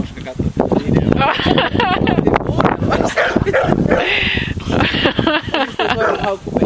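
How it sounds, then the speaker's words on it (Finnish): A dog barks and yips repeatedly in short, irregular bursts, close by, mixed with whimpering and voices in the background. "Koiran haukku peittää."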